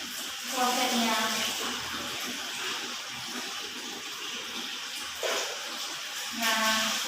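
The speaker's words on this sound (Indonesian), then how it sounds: "Nah, siram juga dengan sikatnya." Water pours and rushes into a toilet bowl during cleaning, with a few louder surges of splashing flow over steady background noise while someone talks.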